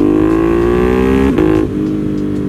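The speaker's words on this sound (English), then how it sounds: "God, this exhaust, man." A Ducati Panigale V4 SP limited edition motorcycle revs through its exhaust, a loud, close, sustained engine note that holds steady, dips briefly, then settles at a lower idle-like drone.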